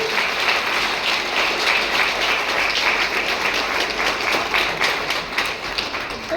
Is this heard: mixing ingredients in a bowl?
no